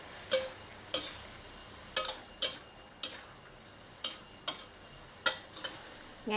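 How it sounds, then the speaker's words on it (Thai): Chicken with chili stir-frying for Thai basil chicken, a soft sizzle punctuated by rhythmic spatula scrapes and clacks against the pan about once per second, close and clear with no talking. "นี่ค่ะแล้วก็ผัดค่ะ"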